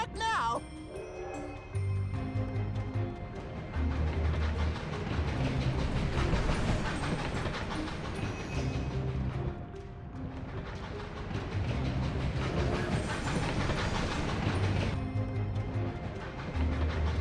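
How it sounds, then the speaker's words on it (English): A train rolls along rails in the Lava Lakes Railway level of the video game Skylanders Spyro's Adventure, a continuous rhythmic clatter with periodic low thumps, layered with other game sounds. "hop in the train to continue on to the Crystal Grottos"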